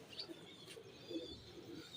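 Pigeons cooing softly at close range during handling of a breeding pair, low murmuring coos with faint chirps over a quiet background.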